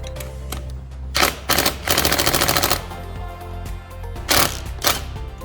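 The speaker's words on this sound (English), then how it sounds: "we're going to go ahead and remove the 4 bolts holding the cylinder to the case" Cylinder bolts being loosened and removed on a TRX400EX engine, a few rapid ratcheting bursts of clicking, close and loud, separated by quieter pauses in a workshop.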